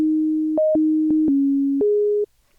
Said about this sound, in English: that really does nothing except create a sine wave